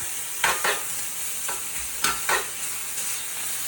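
Lemon chicken sizzles in a smoking-hot pan while being flipped to brown its other sides, a steady frying hiss broken by a few short scraping bursts from stirring.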